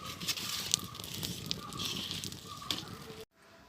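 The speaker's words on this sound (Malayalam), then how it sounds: "പഴങ്കഞ്ഞി കുടിക്കാനായിട്ട് ചൂടാൻ പോകാൻ തീ ഇട്ടിട്ടുണ്ടായിരുന്നേ" A wood fire lit to warm leftover rice gruel crackles and pops close by with a steady soft hiss, then cuts off abruptly near the end.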